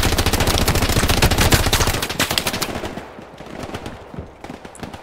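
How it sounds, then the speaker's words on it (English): Loud, rapid machine gun fire in the World War II shooter Hell Let Loose, a dense sustained burst close by for about two seconds, then thinning into scattered shots and distant crackle. "I'll set up my machine gun"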